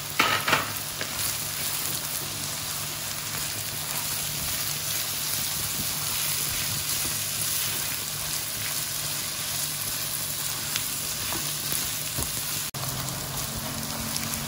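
Sausage and pepperoni fry in foaming margarine in a pan, giving a continuous close sizzle with steady crackle and occasional stirring clatter throughout.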